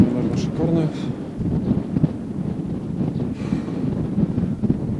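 Wind gusts rumble and buffet the microphone during an outdoor bicycle ride, a continuous low roar that swells and fades, heard close with a person speaking faintly at times.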